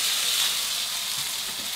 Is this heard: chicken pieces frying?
yes